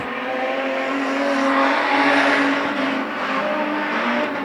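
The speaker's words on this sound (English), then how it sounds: "So this is effectively the warm-up lap to get them up to full speed." A street stock race car on a warm-up lap at a speedway, its engine droning steadily and loudly throughout with a sustained rumbling roar that swells slightly midway, no talk over it.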